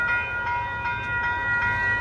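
Union Pacific freight train passing near Lincoln Park in Los Angeles, a steady rolling rumble joined by sustained tonal squeal or horn-like notes at moderate distance, with no voices.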